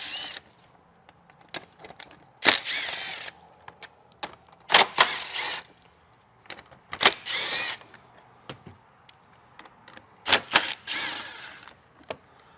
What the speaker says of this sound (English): We're gonna start popping out these bolts that hold the plastic bumper on